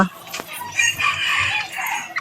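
A rooster crows close by, one drawn-out call over faint background noise, with no one talking.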